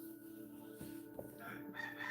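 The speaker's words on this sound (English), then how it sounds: "I hate that goddamn rooster." A rooster crows near a house window in the morning, a drawn-out cock-a-doodle-doo with rising and falling tones over a faint background hum.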